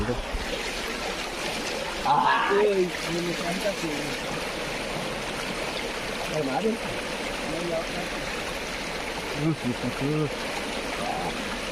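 River water flows in a steady, rushing wash outdoors, continuous throughout, while people talk over it.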